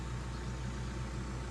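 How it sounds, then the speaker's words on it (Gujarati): Tractor approaching on a rainy farm track, a low, steady engine rumble heard faintly at a distance under a constant wash of rain and wind noise. "એક ટ્રેક્ટર આવે છે, જોવો તમે"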